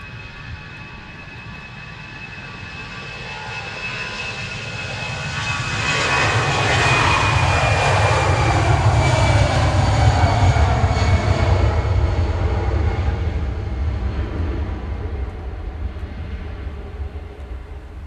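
Jet engines of a Lufthansa airliner at Manchester Airport roar from a distance, swelling to a loud sustained rush midway and holding steady, with a faint whine over the rumble.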